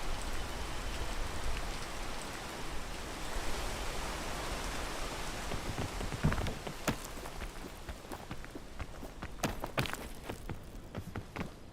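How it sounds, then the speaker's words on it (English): Steady rain in the video game PEAK, a continuous hiss of falling drops that later thins out, with sharp clicks and taps layered on top. "See the rain again."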